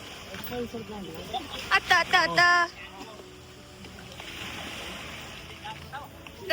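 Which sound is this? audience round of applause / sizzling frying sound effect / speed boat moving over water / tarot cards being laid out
speed boat moving over water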